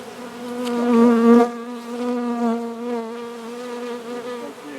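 Honey bees buzzing loudly and close in a bee yard, a steady droning hum with a wavering pitch that continues throughout without speech.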